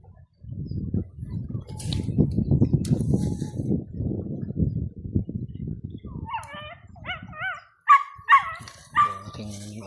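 A dog gives a few short, sharp barks and whimpering yelps after a stretch of low rustling noise, the calls fairly close and spaced irregularly.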